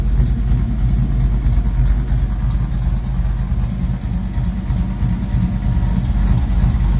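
A 1972 Ford Mustang Mach 1 engine idles steadily with a low, even rumble and a faint rhythmic ticking, running on its own without any talking.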